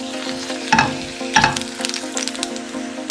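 Dry whole chilies fry in hot oil, a close crackling sizzle with a steady hum beneath and two louder bursts of spatter as they are moved around.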